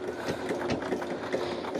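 A sewing machine runs in a rapid, even rhythm along a laser-guided center line, a close, moderately loud mechanical chatter with no talk.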